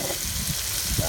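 Chicken sizzles while cooking in a cannonball-style cooker, a short burst of frying crackle with a brief low thump near the end.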